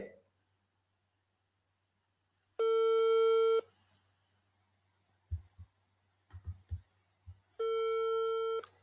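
A telephone rings in two loud electronic bursts about a second long each, separated by several seconds with a few soft low thumps and quiet background hum in between.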